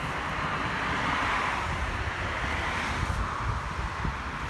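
Steady wind roars and buffets the microphone in a constant, noisy rush with no voices.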